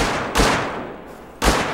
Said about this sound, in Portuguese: Olha lá, ele tá atirando, velho.